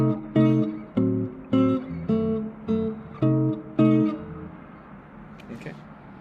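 Diminished chord shapes on a jazz guitar, played in the style of a chord solo: about seven crisp strummed chords in an even rhythm, close and moderately loud, the last one ringing out into quiet.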